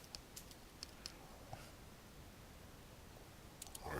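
Typing on a computer keyboard while building a landing page: scattered light key clicks and taps at close range, quiet and irregular, with no talking.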